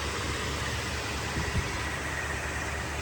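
A 1966 Ford Thunderbird convertible's 390 V8 idles in the engine bay, a faint steady low hum with a light hiss over it and a small bump near the middle.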